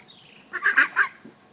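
Farm ducks fresh from their baths give a short run of three loud, nasal honking quacks close by, with a quiet outdoor background before and after.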